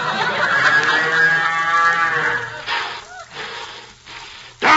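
Elsie the cow lets out a long, loud, wavering moo that tails off, followed by a few softer rustles and a sharp sound at the very end, heard in an old radio comedy.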